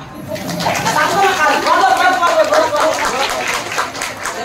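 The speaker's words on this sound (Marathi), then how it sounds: "एकदा स्वतः करता टाळ्या वाजवा" An audience at a Marathi kirtan gathering claps together in a dense, steady patter that lasts several seconds, with voices mixed in.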